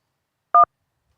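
A single short telephone keypad tone sounds as 1 is pressed to accept a prison call. It is a clean, isolated beep lasting about a tenth of a second in otherwise silent air.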